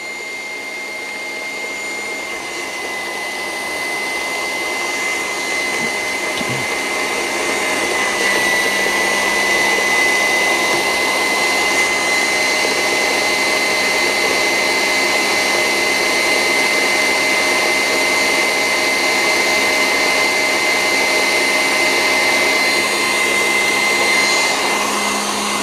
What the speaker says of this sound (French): On n'hésite pas à arrêter le batteur au bout d'un moment